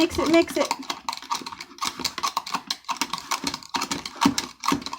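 A whisk stirs hair dye in a bowl with quick, irregular clicking and scraping strokes, close and fairly faint, while people talk intermittently over it.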